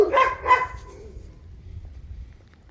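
Doberman guard dogs behind a property fence give two quick, loud barks up close, then the sound fades into low background rumble.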